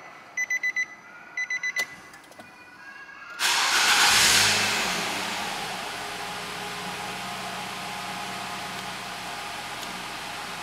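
A 2011 Nissan X-Trail with keyless start gives a few electronic chimes, then the engine cranks and catches with a brief rev before settling into a smooth, quiet idle.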